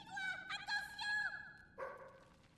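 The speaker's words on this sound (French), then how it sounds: "Oh, c'est un chien, madame." A dog in the video game Fable III gives a few short, high yipping barks in quick bursts, close and fairly clear, with a voice sounding alongside.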